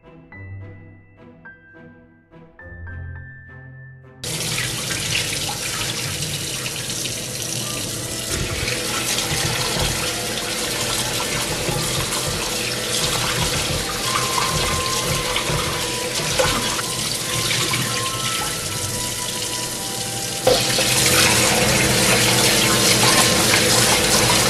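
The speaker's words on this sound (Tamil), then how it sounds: "இந்த பச்சை தண்ணியால் இப்படி அலாசி 2 இல்லை 3 தரம் கழுவி விடுங்கோ" Anchovies being rinsed under a running tap in fresh water, a steady loud gush of water into a sink after a few seconds of quieter sounds, continuing throughout with splashing and no talk.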